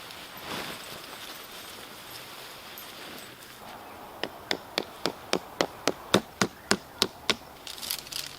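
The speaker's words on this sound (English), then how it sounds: "Now I'm gonna have to find a nice rock to hammer these pegs in with." Tent pegs driven in with a rock at a campsite: about fourteen sharp, evenly spaced knocks close by, preceded by rustling and handling noise, with no talk.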